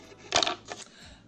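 A pair of scissors is set down on a table with a quick metallic clatter, a short bright burst followed by a smaller second tap, close and alone in a quiet room.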